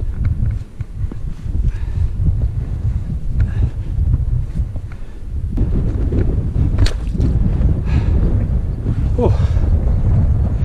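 Strong wind buffets the microphone on an exposed mountain ridge in Wales, a loud rumbling roar that gusts and swells throughout, with a brief exclamation from a person partway.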